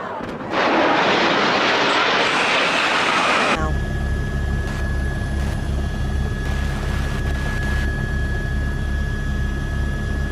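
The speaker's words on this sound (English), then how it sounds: "There's a plane flying in the building." Airplane crashing into a building, heard from a played news video: a loud roaring rush of engine and impact noise for several seconds, cutting abruptly to a steady low rumble with a faint sustained tone behind it.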